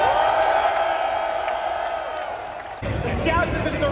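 Crowd at the EVO fighting game tournament, a large arena audience roaring and cheering, rising into a louder whooping swell near the end beneath an announcer talking.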